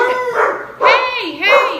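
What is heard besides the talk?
dogs barking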